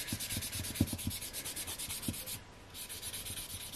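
Quick, rhythmic strokes of a black-sided nail buffer block rub back and forth across fingernails, up close and fairly quiet, with a brief pause partway through.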